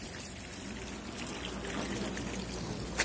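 Water poured onto a plate during dishwashing in a small home, a steady, moderately loud trickling stream that runs without a break, ending in a brief splash.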